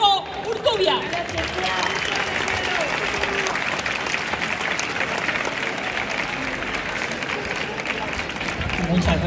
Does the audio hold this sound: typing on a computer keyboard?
no